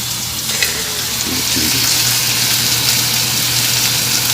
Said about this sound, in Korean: 지금 이게 지글지글 소리가